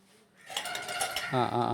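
Antique litre measuring vessels from a collection are handled, giving a couple of metallic clinks and clatters that sit close under a voice.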